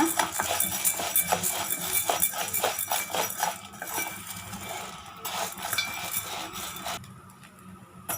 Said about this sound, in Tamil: அதுலேயே போட்டு ஜவ்வரிசியும் வறுத்து எடுத்துடலாம்